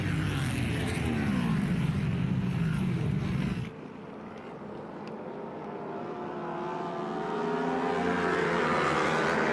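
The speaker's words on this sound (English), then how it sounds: "Dalton Gauthier on the 79 Royal Enfield" American Flat Track racing motorcycles, including a Royal Enfield, roar around the Orange County Fair Speedway. A loud, continuous engine blare dips abruptly partway through, then builds back up as bikes pass.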